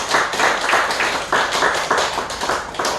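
Church congregation clapping in a brisk, rhythmic unison beat, each clap landing together in a steady repeating pulse, close and fairly loud with no talking over it.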